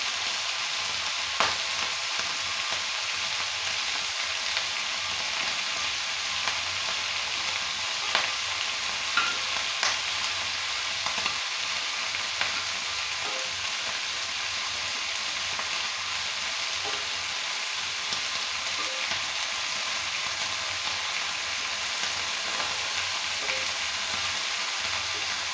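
Prawns frying lightly in a pan for a mustard prawn dish give a continuous, soft, even sizzle with occasional small pops, close and unaccompanied by talk.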